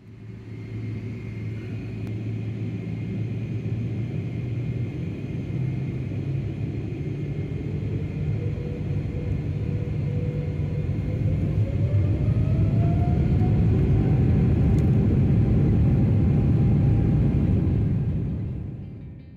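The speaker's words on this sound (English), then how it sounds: "hurtling down the runway to Asia's World City" A Cathay Pacific jet airliner's engines roar steadily and build in power as the plane speeds down the runway at Melbourne, with a rising whine emerging over the deep rumble.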